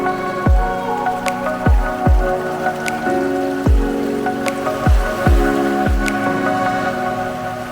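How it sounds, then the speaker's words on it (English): Water from a garden waterfall splits around rocks, making irregular dripping, plopping splashes over a steady low trickle, close by with no talking. "Just the way that the water's splitting around all the rocks"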